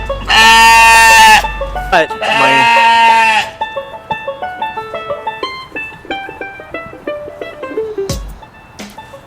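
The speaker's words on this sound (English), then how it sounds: "I think it's also worth mentioning that sheep can get loud." Homestead sheep give two long, loud, close bleats in a row, then a brief spoken word and a run of quieter, softer bleats and rustling trailing off.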